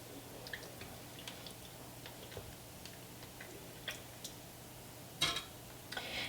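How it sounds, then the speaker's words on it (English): A plastic debubbling tool pokes around inside a glass canning jar packed with pot roast, giving soft irregular ticks and taps, faint and close, with a brief louder clink and squish near the end. "release any air bubbles. Just kind of poke around your jar."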